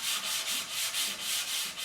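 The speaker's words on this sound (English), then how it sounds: "if you do this light sanding between each coat" Rhythmic back-and-forth strokes of sandpaper lightly hand-sanding a wooden cabinet shelf between finish coats, close and steady, about eight passes with no voices.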